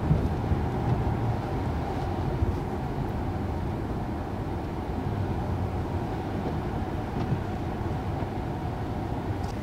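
A 2019 Mercedes-Benz S 560 Coupe with a 4-liter V8 drives along, giving a steady low drone of engine and road noise inside the cabin, constant and even throughout.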